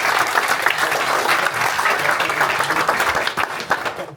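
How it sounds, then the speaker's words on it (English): An audience in a theater applauds at a book launch event, many hands clapping in a dense, loud, sustained burst that thins slightly toward the end. "That man deserves an applause."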